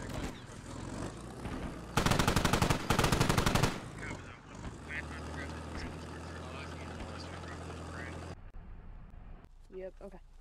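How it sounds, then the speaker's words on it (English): DShK heavy machine gun firing a rapid, loud burst at an MT-LB armoured vehicle in the Squad war video game, followed by engine rumble and a few shorter shots, with voices talking at times. "we're looking at the Russian MTLB being engaged by a militia Dishka emplacement"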